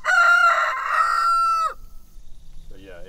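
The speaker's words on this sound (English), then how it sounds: "Chickens are the nastiest animals." A rooster crows loudly and close on a farm in one long harmonic call that breaks off sharply, followed by quieter clucking and rustling from the chickens.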